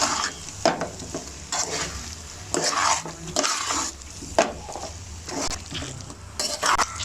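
A spoon scrapes and clatters against a pan in bursts, stirring gooseberries that sizzle softly between strokes, close and fairly loud.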